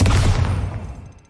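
A Confringo spell explosion in Hogwarts Legacy, a single loud, close boom with a rumbling low end that decays over about a second, standing alone without talk.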